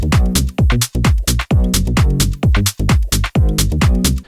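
Minimal house groove with kick and hi-hat drums layered over a deep, pulsing bass line, looping steadily and loud with a tight rhythmic pump and no voices.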